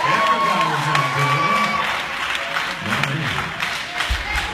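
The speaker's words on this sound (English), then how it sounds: "A big round of applause for E.N.D." A crowd applauding and cheering loudly, sustained clapping with a voice heard over it.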